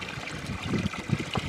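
Water pours and gurgles into a container while water is hauled in winter, a close, uneven trickling and splashing with soft low bubbling pulses.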